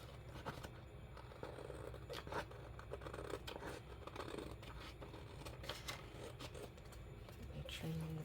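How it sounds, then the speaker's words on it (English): Scissors cut paper for a handmade mini folio journal, giving a close, steady run of quick snipping and crisp rustling cuts that carry on throughout. "then I just take my scissors"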